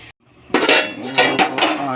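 A metal lid set on a cooking pot of onions and spices for a country chicken curry, giving a brief close clattering clank and rattle after a short silence, with no talk.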